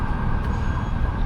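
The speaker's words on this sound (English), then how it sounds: "One thing about LA is you will always hear a sirens." A police siren wails steadily through downtown Los Angeles streets, loud and continuous over traffic rumble, with no one talking.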